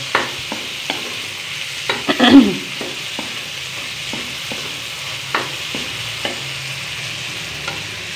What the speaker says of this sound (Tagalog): Nag-brown na yung bawang, so nilagay ko na yung hotdog.